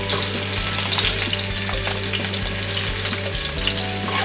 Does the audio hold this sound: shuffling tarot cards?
no